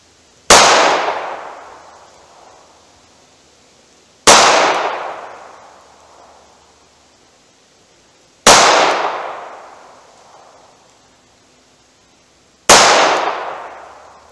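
Four loud, sharp gunshots from a snub-nose revolver firing wadcutter ammunition, spaced about four seconds apart, each with a long ringing outdoor decay and no talking.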